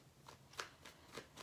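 Tarot cards are shuffled by hand in a series of soft, papery riffling bursts, three or four close strokes in quick succession with no talking.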